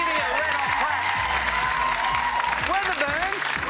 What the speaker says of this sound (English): So let's hear it for the Midlers for playing beautifully and giving it a round of